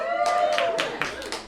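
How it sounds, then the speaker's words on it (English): A small audience at a Christmas quiz game lets out a brief sustained cheer of raised voices, with a few scattered claps near the end. "Give us a cheer if you think that is true."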